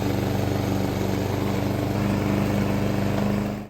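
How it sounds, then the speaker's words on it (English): A lawn mower runs steadily and close by during yard trimming, its engine drone even and continuous with no talk over it. "Good job, lawnmower."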